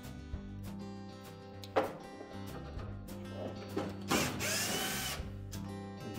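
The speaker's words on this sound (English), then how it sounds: "And just remove the two mounting screws." Mounting screws are backed out of a Whirlpool washer's water inlet valve, giving close, quiet ratcheting clicks and short mechanical whirs in a few separate bursts.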